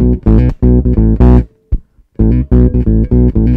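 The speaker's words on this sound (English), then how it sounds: "Now I'm going to kick in the octave and you'll get this really thick synthy sound like this." A bass guitar running through a Boss OC2 octave pedal gives a thick, synth-like low tone. It plays loud, close, punchy notes with a brief pause in the middle of the phrase.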